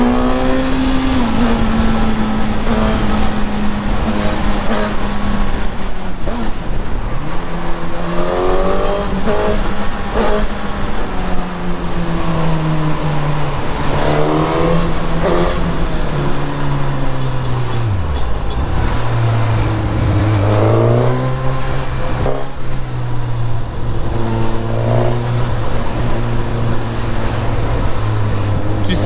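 A powerful Suzuki GSX-S 1000 motorcycle accelerates along a busy ring road, its engine note rising and falling through repeated gear changes, loud and close throughout with steady wind and traffic noise underneath.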